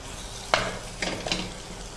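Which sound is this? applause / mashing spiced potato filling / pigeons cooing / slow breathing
mashing spiced potato filling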